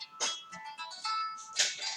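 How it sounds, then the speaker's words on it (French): A mobile phone ringtone sounds as a melodic electronic tune in short repeated bursts, fairly faint and close, interrupting a paper-craft session indoors. "excusez-moi, c'est mon téléphone"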